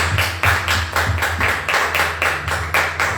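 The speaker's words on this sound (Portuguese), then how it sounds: "Uma salva de palmas ao Senhor Jesus." Congregation clapping in rhythm during a Christmas Day family church service, a close, loud, regular beat of hands about three claps per second, repeated steadily without talk.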